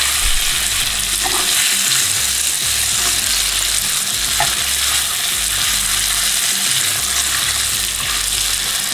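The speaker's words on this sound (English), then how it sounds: "Just gonna sear it a little bit on each side." Beef short ribs searing in a hot pan, a loud, steady sizzle and crackle of frying fat that carries on without a break, with no voices.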